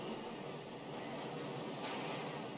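Steady rumbling ride of a train in the horror game Lost in Vivo, a continuous dense noise bed with no talk and a slight swell near the end.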